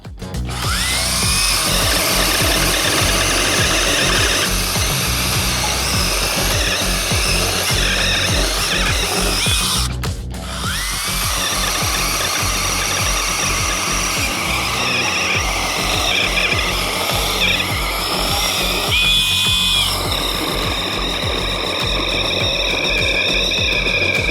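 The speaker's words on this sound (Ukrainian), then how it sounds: "Всі розуміють, що сире дерево буде легше різати, але завдяки бішітковому двигуну пилка повністю комфортно веде себе з цією шиною" A StartPro SBS 21 B cordless mini chainsaw with a brushless motor cuts through dense, dry pear wood, running loud and close with a steady drone, a short break near the ten-second mark, then continuing evenly.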